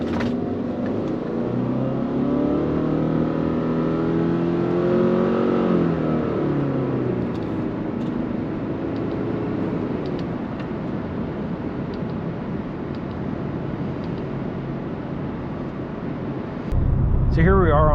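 A 2024 Subaru Crosstrek Limited hums along the highway, with a steady mid engine drone and road noise heard from inside the cabin. The engine swells early on, and a louder burst of noise comes near the end.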